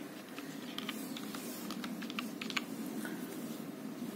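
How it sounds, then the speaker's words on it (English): Keys tapped on a computer keyboard in a quick, uneven run of clicks, close and moderately loud over a steady low hum, with no talk. "So you're gonna type it control panel."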